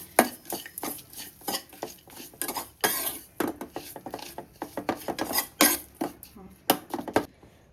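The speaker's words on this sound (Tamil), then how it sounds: "நம்மளுடைய சாதத்தை கூட்டி கிளறும்" A spoon scrapes and clatters against a pot as tomato rice is stirred off the heat. The metallic rasping and knocks come thick and irregular, and no words are spoken.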